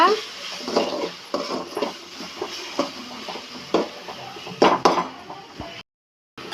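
Onions and tomatoes with a little salt stirred and sautéed in a pan for a drumstick, brinjal and raw mango sambar, with repeated scraping and clinks of a utensil against the pan, fairly close, ending abruptly in silence.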